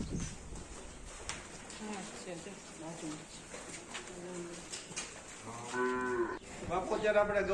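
Several cows of mixed ages moo at a cow shelter that houses 42 cattle, with low drawn-out calls growing louder toward the end, mixed with pigeon cooing and people talking in the background.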